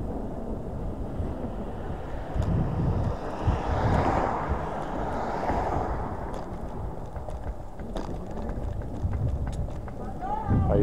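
Ride on a Hiboy S2 Pro electric scooter in comfort mode, with steady wind buffeting and road rumble throughout and no clear speech.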